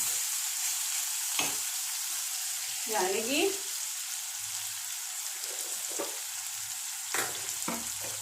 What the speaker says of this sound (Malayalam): കരിയാപ്പില ഉപ്പും കൂടെ ഇട്ടിട്ട് നമുക്കത് മൂപ്പിച്ചെടുക്കാം.